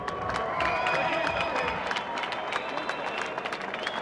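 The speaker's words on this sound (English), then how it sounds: "can I get a big round of applause for both our champions?" At a professional boxing match, an arena crowd applauds and cheers after the twelfth-round result. The clapping is steady and dense, with scattered cheers and a faint announcer-style voice somewhere in the background.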